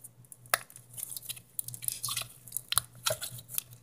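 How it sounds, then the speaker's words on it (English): Slime bubbles being popped by hand in a kitchen, a quick series of close, soft wet pops and squishes. "now pop all the bubbles"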